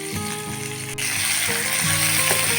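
Chopped small onions frying in oil in a pan for a Bengali raw jackfruit and prawn curry, a steady close sizzle that grows louder partway through, with faint stirring clinks.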